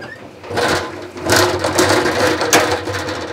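Hand-cranked honey extractor turning, a close rhythmic mechanical clatter and grinding with repeated knocks, alone in an outdoor setting.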